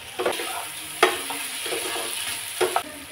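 Coconut chicken being stirred in a pan while it fries, with a steady sizzle under a few distinct scraping strokes, near and fairly loud, no voices.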